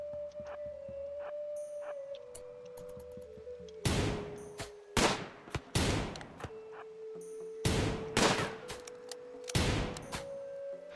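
Ranged-weapon gunfire in the video game RimWorld: several loud, sharp shots in irregular bursts over a steady low game tone, with no speech.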